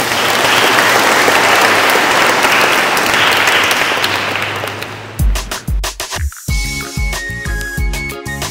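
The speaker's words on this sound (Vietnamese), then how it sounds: "Xin một tràng pháo tay để cho một người." Congregation in a Catholic parish church gives a long, dense round of applause that fades after about five seconds, giving way to music with a deep beat.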